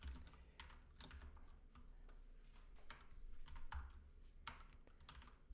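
Steady keyboard typing while code is written for a Rust and React Native tutorial, with irregular clusters of key clicks at moderate level and no voices.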